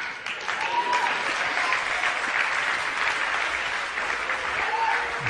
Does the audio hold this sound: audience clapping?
yes